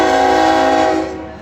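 A long hybrid freight train running half on LNG from a tender and half on diesel rumbles past a railroad crossing, its steady loud drone holding and then easing off at the end.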